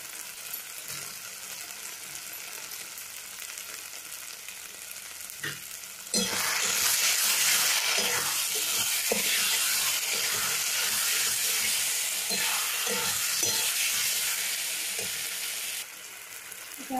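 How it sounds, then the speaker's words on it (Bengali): Chopped tomatoes hit hot oil with spice masala for a Bengali chicken kosha, the frying jumping to a loud, steady sizzle with stirring clinks and scrapes that runs on before easing near the end. "এবার এখানে টমেটো কুচিগুলো দিয়ে দেবো"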